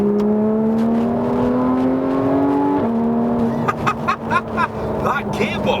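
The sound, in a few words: Porsche 911 GT3 engine revving and gearbox upshifting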